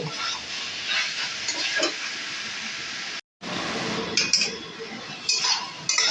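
Shredded cabbage cooks down for Bengali badhakopir ghonto while a spoon stirs it. A steady, close sizzle runs under repeated metallic clinks against the pan, broken once by a brief cut to silence.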